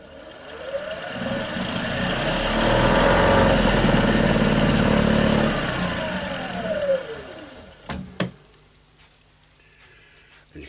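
A woodturning lathe spins a sapele bowl at high revs, a whirring motor tone that rises as it speeds up, holds steady, then winds down and stops, followed by a few clunks.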